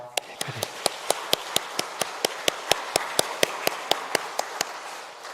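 Steady rhythmic clapping by a church congregation during a Sunday service, sharp evenly spaced claps, close and clear, with a low voice briefly at the start.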